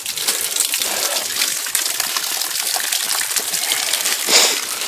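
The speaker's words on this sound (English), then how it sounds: "I'm gonna go ahead and rinse off a little bit here in our spring." Water splashing and gushing steadily up close as someone rinses off in a natural spring outdoors, a continuous bright wash of sound with a slightly louder splash near the end.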